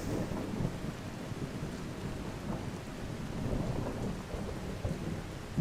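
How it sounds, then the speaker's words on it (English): A thunderstorm with steady rain in the game Skyrim: a dense, constant wash of rainfall with low thunder rumbling throughout, heard alone without talk. "Thunder is gets me a little on edge, but the rain sounds"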